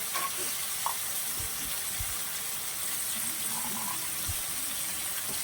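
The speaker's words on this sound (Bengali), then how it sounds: "আমি এখন কড়াইশুঁটি দিয়ে দিলাম।" Green peas with turmeric fry in a pan, making a continuous, even hiss of sizzling oil with a few soft knocks near the start and middle.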